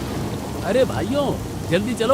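Heavy rain pours in a Hindi cartoon, a steady wash of downpour beneath animated voices calling out to one another.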